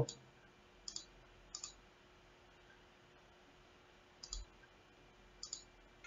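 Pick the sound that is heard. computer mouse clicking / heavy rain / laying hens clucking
computer mouse clicking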